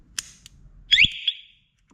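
An alarm on a 125cc ATV sounds off with a sharp chirp, then a loud rising electronic whistle-like tone lasting about half a second, close and alone.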